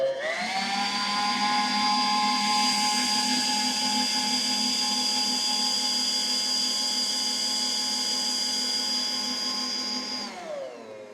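An electric mixer runs steadily at high speed through pound cake batter loaded with eggs, a loud, even motor whine that holds for about ten seconds before winding down and stopping.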